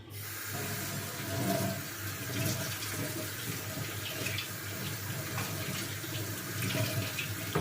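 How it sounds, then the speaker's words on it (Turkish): A kitchen tap runs at low flow while hands are washed with dish detergent, a steady close hiss of water splashing into the sink throughout, with no voices. "Şurada deterjan alalım biraz. Suyu da hafif de açalım."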